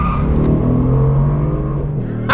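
A Mercedes-AMG GT R, a rear-drive car, revs loudly under throttle at a corner, its engine note rising and holding in a strong, close roar before a brief shift near the end.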